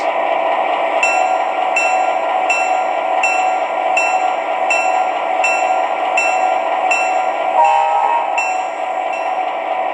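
A model train sound sequence from an MTH Premier Burlington Route GP7 locomotive, set to a freight switching sequence, plays: a steady mechanical hum with rhythmic high-pitched chimes, and a short squeal near the end.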